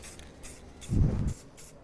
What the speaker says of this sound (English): see how light of a mist I'm spraying on there?